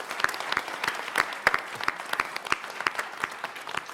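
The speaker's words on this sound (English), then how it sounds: "So a round of applause for our wrap-up panelists, for all of our panelists." A small audience at a panel discussion event claps, sparse individual hand claps in an uneven rhythm, fairly close and moderately loud, without cheering.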